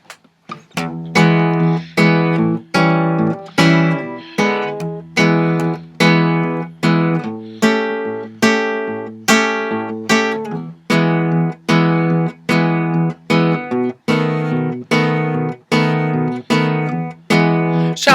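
Fingerstyle Travis picking on guitar, with an alternating thumb bass driving a steady pulse under chords plucked by the index and middle fingers, continuing evenly and unaccompanied.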